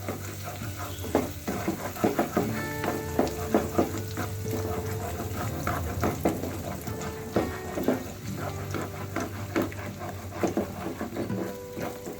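Beaten egg frying in a pan while being stirred slowly, a steady sizzle with soft scraping and stirring strokes throughout, close and continuous with no talk.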